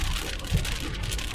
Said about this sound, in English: And it's still raining a little bit, but it's not too bad.